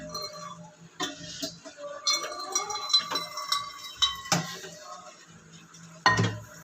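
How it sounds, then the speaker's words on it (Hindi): Dishes and metal utensils clink and clatter as they are washed by hand, with scattered sharp knocks and ringing taps of varying loudness close by, one heavier clatter near the end, and no talk. "और ये बर्तन धोने के लिए है"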